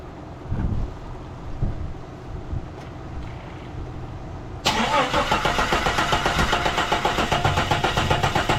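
A fuel-injected 1999 Jeep XJ engine cranks with faint, uneven turning sounds, then abruptly catches and settles into a loud, steady, close-up running drone for the rest of the time.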